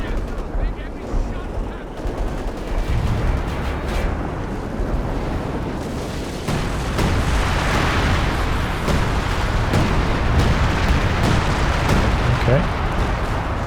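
Heavy 105mm artillery shells in the Company of Heroes 2 real-time strategy game land in a continuous rumble of booms and blasts, with a voice briefly speaking over the battle din.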